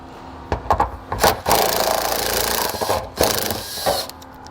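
A 10mm socket works loose the plastic nuts on the exhaust heat shield under a 2021 Chrysler during a trailer hitch install. Scattered clicks and scraping taps come in short bursts, with one longer grinding rub in the middle, close but moderately quiet.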